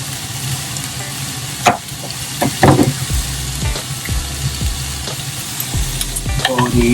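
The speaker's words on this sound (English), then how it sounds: "Put the tofu back in the pan. And let it stir fry." Tofu, bitter melon and pork stir-frying in a pan, with a steady close sizzle broken by a few sharp scrapes and clacks of a utensil against the pan.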